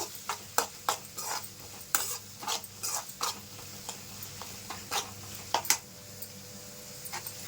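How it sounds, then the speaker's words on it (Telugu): Paneer 65 ingredients fry and get tossed in a pan, heard as a soft sizzle under a rapid series of close clinks and scrapes of a spatula against the metal, with no talking. "ఇవి కొంచెం సాఫ్ట్గా అయ్యేంత వరకు వేయించుకోవాలి"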